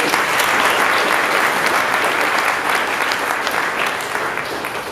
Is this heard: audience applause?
yes